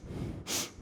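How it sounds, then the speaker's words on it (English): Breath of fire in kundalini yoga, a single sharp nasal sniff and exhale heard close and fairly quiet, with soft breathy texture around it. "it's an equal inhale and exhale through the nose."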